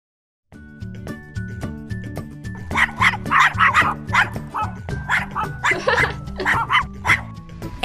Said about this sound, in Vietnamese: chú chó mù